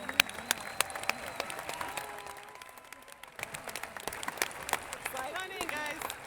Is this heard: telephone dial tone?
no